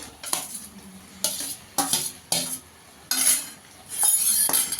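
Jackfruit being added to cooked-down masala in a pan, heard as several bursts of scraping and clattering from a spoon or spatula against the pan, separated by short quiet gaps, close and without talk.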